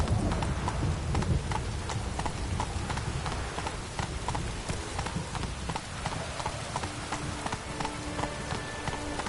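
Horse hooves beat a steady, quick clip-clop on the ground in The Witcher 3: Blood and Wine video game, over faint background game ambience.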